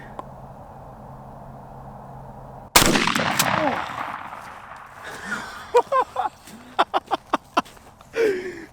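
A Winchester SXP Waterfowl 12 gauge pump shotgun fires one sudden loud blast with a long echoing tail outdoors, followed by excited voices.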